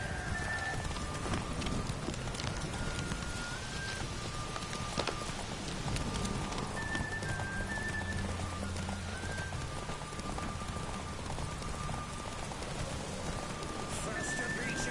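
Roach the horse gallops through rain in The Witcher, hoofbeats running steadily under a constant patter of rainfall, with a voice speaking over the scene.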